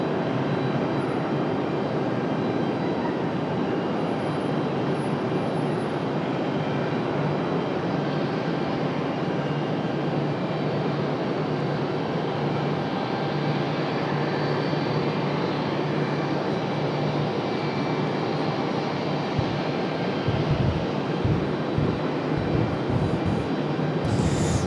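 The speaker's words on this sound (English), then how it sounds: "JetBlue about to touch down." A JetBlue jet inbound from JFK touches down at Raleigh-Durham, a sustained loud engine roar with a thin high whine that holds steady, then breaks into rumbling thumps near the end as it rolls out.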